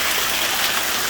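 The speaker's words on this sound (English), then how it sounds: "we're getting hail" Hail pelting down during a Southern California storm, a dense, continuous hiss and patter of many hailstones striking surfaces, loud and steady with no voices.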